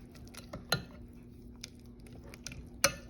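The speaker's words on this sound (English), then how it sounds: "I'm gonna give that a mix" Pasta is mixed with shredded cheese in a baking dish, with soft sticky stirring and two sharp utensil clinks against the dish, close and fairly quiet, without speech.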